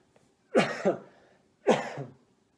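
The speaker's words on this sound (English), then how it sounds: "I'm gonna cough." Two close, harsh coughs about a second apart, loud and dry, with quiet between them and no talking.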